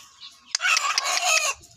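A silkie hen and her young chickens cluck and chatter in a short, close burst of busy, overlapping calls, with no talking.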